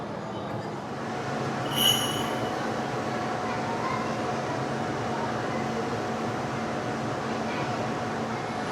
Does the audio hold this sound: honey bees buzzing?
no